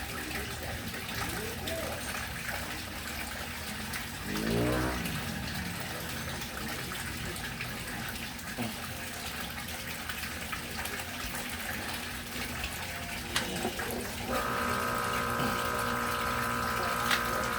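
An air pump pushing air through an air stone into water gives a steady bubbling, gurgling wash with a continuous pump hum. A brief louder surge comes early and a tonal whine joins near the end, with faint voices at times.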